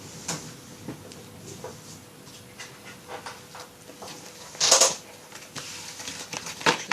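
Tarot cards are shuffled close by during a reading, a soft continuous rustle of sliding cards broken by sharper flicks and taps, with one louder riffle midway and scattered crisp snaps toward the end.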